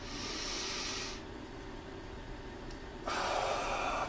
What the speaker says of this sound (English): begin by breathing in to the fullest extent you feel comfortable with